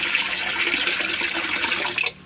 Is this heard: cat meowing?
no